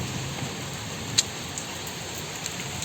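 Heavy rain pours down in a constant dense hiss, with occasional louder drips and splashes standing out nearby.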